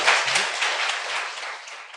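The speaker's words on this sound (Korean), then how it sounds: "박수 부탁드립니다" Studio audience applause at the close of a guest's appearance on a Korean talk show, a dense wash of clapping that holds steady then tapers slightly over two seconds.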